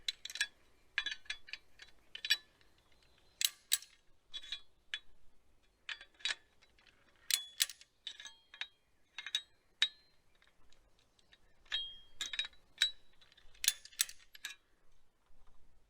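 A fence strainer ratchets to tension wire, giving a series of sharp, close clicks in irregular bursts with short pauses between them, alone without talk.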